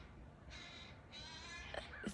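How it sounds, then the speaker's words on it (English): Harsh, raspy bird calls sound from above in a couple of drawn-out caws, with fainter chirps following. "these birds haven't been in these videos and they're just making all this noise up there"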